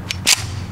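A single sharp gunshot from a Kimber Raptor II 1911 pistol loaded with hollow-point rounds, a close, loud crack preceded by a faint click, then quiet outdoor background.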